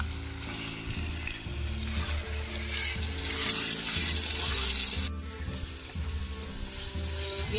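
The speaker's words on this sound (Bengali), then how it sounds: "পেঁয়াজ রসুনটা ভেজে নিচ্ছি।" Onions and garlic paste sizzle steadily in a hot pan, a continuous close frying hiss with occasional stirring scrapes and no talk over it.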